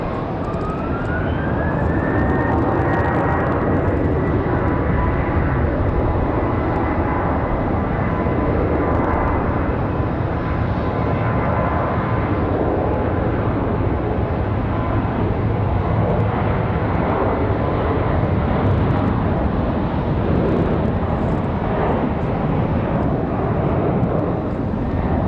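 A United airliner takes off from runway 5 left at Raleigh-Durham airport with a loud, sustained engine roar and a rising whine, steady throughout in windy conditions.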